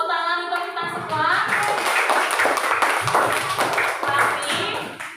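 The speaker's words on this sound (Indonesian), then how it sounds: "Tepuk tangan untuk kita semua." A class of students clapping together in a school classroom, a loose run of many hands that starts after a brief moment and continues unevenly, with voices mixed in over it.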